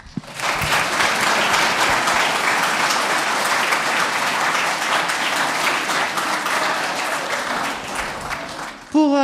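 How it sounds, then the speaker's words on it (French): Sustained audience applause fills a school orchestra concert at a collège in Perthes, loud and steady for about nine seconds before cutting off, with a voice briefly at the end. "On peut encore l'applaudir."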